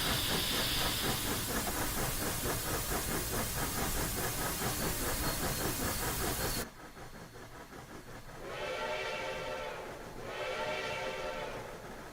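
A steam locomotive on the Rio Grande Southern in a train simulator game chuffs in a fast, steady rhythm over loud hiss. It then cuts to a quieter scene with two drawn-out whistle blasts.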